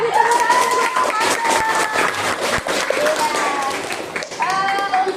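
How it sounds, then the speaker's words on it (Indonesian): High school class applauding a student group in a classroom, loud continuous clapping mixed with cheering and excited voices, with students chattering over it. "Kami tepuk tangan untuk kelompok"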